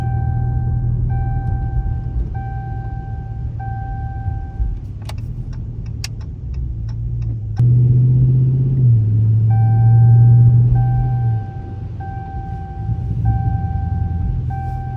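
A Dodge Hellcat with the 392 engine is driven on a rainy road, its deep exhaust rumble running steadily underneath, swelling louder midway, while a repeating chime beeps and a brief quick ticking passes.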